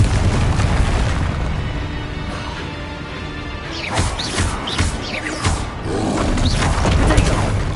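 Confringo explosive spell in the video game Hogwarts Legacy, heavy booms and crashing impacts within a loud, continuous battle din, several sharp hits landing midway and near the end, with a voice briefly heard.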